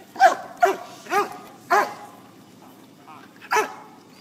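A police narcotics search dog barks five times in sharp, loud, evenly spaced bursts close by, with brief pauses between barks.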